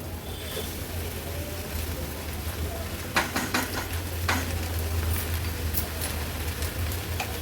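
Jaggery is stirred into cooked chana dal in a pan for puran, a soft continuous sizzle with low hum, broken by a few scraping clinks of the spoon against the pan midway.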